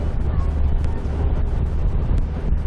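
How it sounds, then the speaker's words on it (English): Strong wind buffeting the microphone in the middle of the Danube, a steady low roar, loud and close, with faint boat and water sounds beneath. "It's a bit breezy out here actually."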